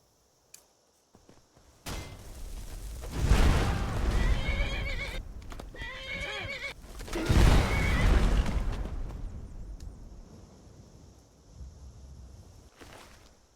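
A horse in Skyrim whinnies loudly twice with long, shaky neighs, hooves thudding faintly around them amid rumbling game ambience.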